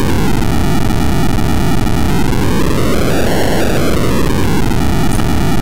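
A Commodore Plus/4 home computer program generates a steady, loud white-noise windstorm whose hiss slowly swells and dips in pitch like gusting wind, continuous throughout with no voices.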